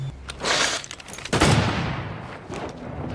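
Gunshots from the film The Revenant ring out in the wilderness: several loud, sharp cracks with a heavier blast near the middle, each echoing and decaying into a rustling tail.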